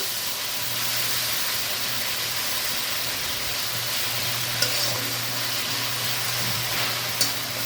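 Spice masala mixed with a little water in a frying pan for a spicy brinjal karanchi gives a steady, loud hiss and sizzle with faint stirring, broken by two brief sharp clicks near the end.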